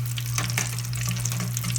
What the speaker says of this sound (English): let me go ahead and fry this